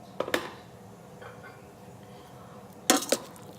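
An Instant Pot lid being opened after pressure release gives a couple of quick metallic clinks, then a soft shuffle and another pair of sharp clicks near the end, close and moderately loud.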